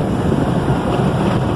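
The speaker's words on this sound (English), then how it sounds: "I'm actually taking this thing through a car wash right now to see if there's actually any leaks on this" An automatic car wash sprays a 1998 Nissan Pathfinder 4x4, a loud continuous low rush of water and roaring jets heard from inside the vehicle.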